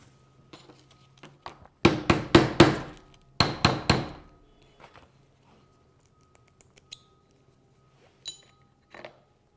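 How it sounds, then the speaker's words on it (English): Mallet blows knocking apart carbon-fouled baffles from a Ruger Silent-SR rimfire suppressor: a quick burst of four sharp strikes, a pause, then three more, loud and close, with faint handling clinks afterward. "Ones that are a little bit too tough, use the mallet, give them a smack that'll break the carbon and break the seal on it."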